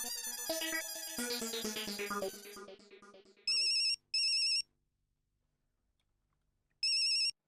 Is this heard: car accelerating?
no